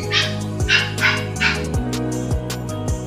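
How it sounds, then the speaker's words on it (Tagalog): A dog barks in short repeated bursts, four or five sharp barks close by, with a low tonal hum running steadily underneath. "Ingay ng aso."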